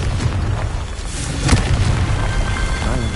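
A Confringo spell explosion in Hogwarts Legacy, a loud deep boom with a sharp burst in the middle and a rumbling tail, heard up close against dense game sound.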